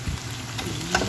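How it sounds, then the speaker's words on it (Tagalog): Ground meat frying in a pan with golden browned onions, garlic and butter gives a brief, soft sizzle with light stirring. "Ngayon ilalagay na natin guys yung ating ground meat."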